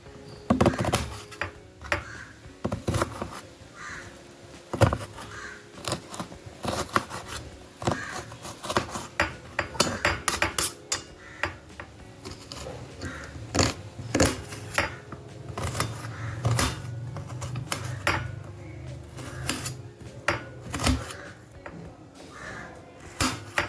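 A knife chops onions and green chillies on a board, giving a long run of quick, uneven taps and scrapes, close and moderately loud, with brief pauses between bursts.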